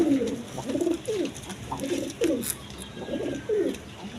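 Danish and Jacobin pigeons in a loft coo in a run of about six rolling, throaty phrases, close and clear with no talking over them.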